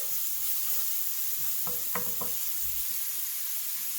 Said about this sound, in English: I'm gonna fry this up until it's brown.